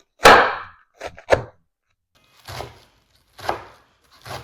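A knife chops peeled, washed mustard green stalks for Punjabi saag on a board: about six close, crisp thunks, one hard strike then an uneven pair and three spaced chops, with no talk.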